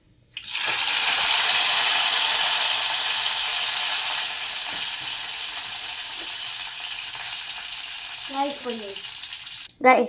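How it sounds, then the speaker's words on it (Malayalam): Mustard seeds crackling in hot oil, a loud, dense hiss of popping that runs steadily from the start and eases slightly partway through, close by, with a brief voice near the end. "നമ്മുടെ കടുക് ഇവിടെ പൊട്ടിക്കൊണ്ടിരിക്കുകയാണ്."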